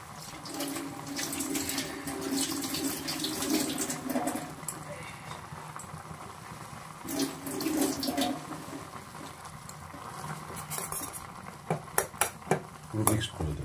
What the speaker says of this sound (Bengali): একটু চামচ দিয়ে নড়িয়ে দাও